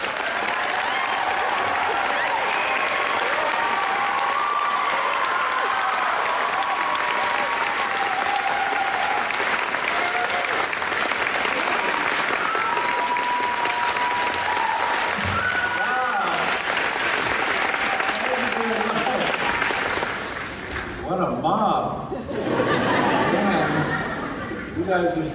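Audience applause welcoming R.L. Stine at a live interview event, a large crowd clapping steadily for about twenty seconds with scattered chatter and laughter, then fading as the clapping thins out.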